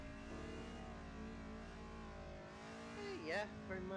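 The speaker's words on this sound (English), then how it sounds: "This car is a little too loud." Car engine revving in the Assetto Corsa racing game, a loud sustained drone with rising and falling pitch sweeps near the end, close and prominent.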